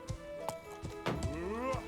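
Soft hoof clops from a horse in the game Life is Feudal with a brief whinny, heard beneath a voice and background music.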